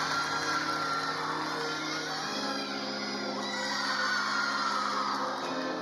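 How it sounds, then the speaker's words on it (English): College gymnastics teammates cheer and whoop for a gymnast's floor routine at a meet, a loud, sustained crowd of shouting voices with no break. "You can see her teammates really cheering her on"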